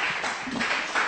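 A church congregation applauds during a French-language service, giving a brief burst of steady, dense clapping that fills the space without pause.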